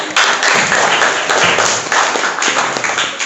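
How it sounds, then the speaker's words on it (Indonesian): Applause from a classroom of students during a religious studies lesson, a dense, loud burst of clapping sustained for about three seconds with no talk over it. "Tepuk tangan untuk jawabannya."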